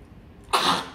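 An anxious dog gives a single short, harsh cough, close and sudden after a quiet moment.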